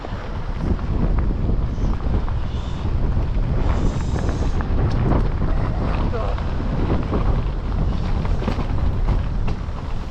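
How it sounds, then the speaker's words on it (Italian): Strong wind buffets the microphone continuously on a mountain bike trail at Finale Ligure, a loud roaring rumble with gusty surges that never lets up. "vento infame oggi"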